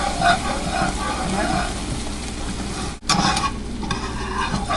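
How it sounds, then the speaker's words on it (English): Caramel being whisked in a pan, a steady busy scraping and bubbling stir close up, briefly cut off near the middle before resuming at the same level. "You're gonna add the other half of your caramel and whisk it up."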